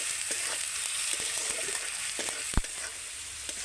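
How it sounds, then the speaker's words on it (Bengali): Okra masala with tomato and salt sizzles steadily in a hot pan while being stirred, giving a constant close-up frying hiss with occasional scraping and tapping of the spoon, and no voices. "এবার আমি ভালো করে একটু কষিয়ে নেব"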